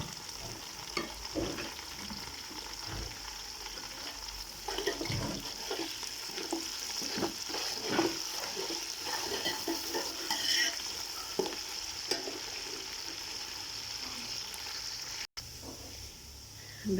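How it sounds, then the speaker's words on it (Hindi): Curry leaves frying with onions in mustard oil in a pan, a steady dense sizzle with scraping stirs throughout, close and continuous. "सरसों के तेल को प्याज के साथ ज़रूर भूनना"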